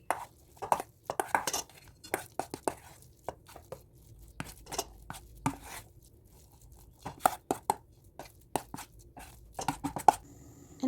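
Tofu and bean sprout batter with flour and egg is worked in a bowl, making close, irregular sharp taps, clacks and scrapes of the utensil in uneven clusters with quiet gaps, and no talking.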